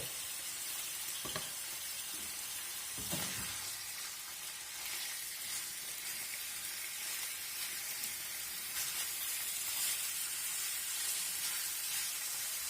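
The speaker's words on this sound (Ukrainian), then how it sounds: "Тепер я його буду помішувати, щоб воно е, то м'ясо все обжарилось." Beef chunks for goulash sizzle and fry steadily in a pan, with a few louder scraping stirs near the start; a continuous close hiss with no talking.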